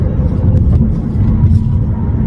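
A Chevrolet Impala 2.5 converted to LPG cruising on the Seoul ring expressway at about 120 km/h and 2000 RPM, heard from inside as a loud, steady low road and engine rumble.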